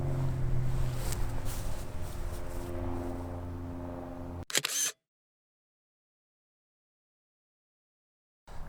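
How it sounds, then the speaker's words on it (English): A camera shutter clicks once for a reference photo outdoors, a short crisp mechanical snap after a stretch of wind and low boat-like rumble, then the sound cuts to silence. "right now I'm going to take a reference photo"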